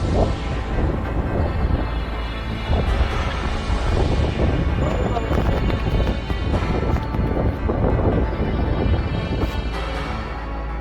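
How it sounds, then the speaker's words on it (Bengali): Loud, steady roar of cyclone storm wind buffeting the microphone in Khulna, a dense rushing noise that barely lets up for the whole stretch. "উল্টা পাল্টা ঝড় শুরু হয়ে গেছে"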